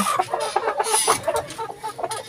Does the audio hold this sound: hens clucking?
yes